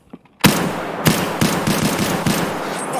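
Rapid bursts of automatic gunfire in a first-person shooter game, several loud sharp shots following a brief quiet start, repeating in quick succession and close by.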